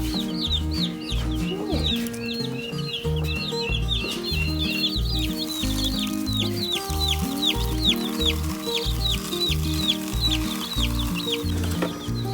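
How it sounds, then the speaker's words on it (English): Guinea fowl kept on a backyard homestead call nonstop in a loud, rapid chattering chorus of harsh repeated cries, close by and continuous throughout, with no talking. "These are guinea fowl."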